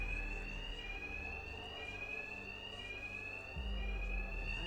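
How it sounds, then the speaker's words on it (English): A fire alarm rings steadily in Batman: Arkham Knight during a bank heist by Two-Face's thugs. The tone is high, continuous and unbroken throughout, with a low engine-like rumble underneath and no speech. "Two-Face's thugs won't hear me over the alarm."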